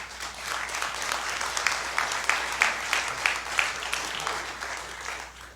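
Audience applause at a talk on medical cannabis for neurological conditions, a dense, steady patter of many hands clapping, moderately loud and sustained throughout before tapering slightly at the end.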